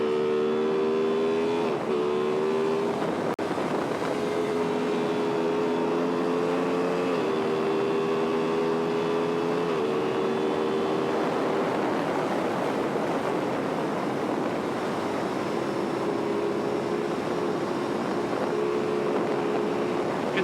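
An Aprilia Tuono V4 motorcycle engine drones steadily while riding, its pitch stepping up and down through gear changes, under heavy wind rush, continuous and close.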